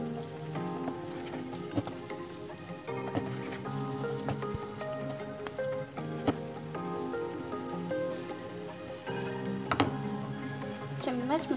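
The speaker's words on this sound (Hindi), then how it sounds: "इसको इतना भूनेंगे कि घी हलवे से अलग हो जाए।" Semolina roasting in ghee for sooji makhaddi halwa, a soft steady sizzle with scraping and stirring clinks from a spoon in the pan, running under background music for the whole stretch.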